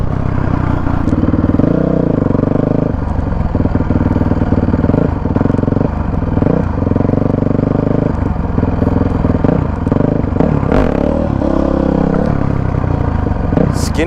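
Honda CRF450X dirt bike engine held at steady revs during wheelie practice, a loud continuous mid-pitched drone with brief throttle dips and surges, close to the rider, with some mechanical clatter throughout.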